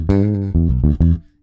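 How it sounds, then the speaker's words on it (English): Dry electric bass guitar played clean through a bypassed Joyo Scylla compressor pedal: a few sustained low notes, then two shorter plucked notes, close and loud with no talking. "Okay, so here's the sound of the bass. Totally, totally dry."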